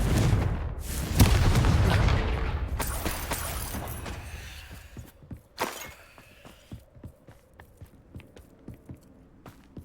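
In Hogwarts Legacy, a Confringo blast spell erupts in a loud, close boom with a crash of debris, then fades into rubble settling and a run of sharp, scattered clicks and footsteps.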